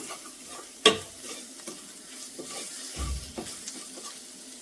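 A spoon stirs a moringa ghee rice mixture in a pan: scattered scrapes and knocks over a light sizzle, with a sharp clack early on and a heavier scrape a bit later.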